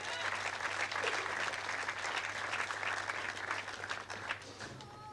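A crowd applauds a bowler's spare at a tenpin bowling tournament in Melbourne, with steady, moderately distant clapping that holds throughout and tapers slightly at the end.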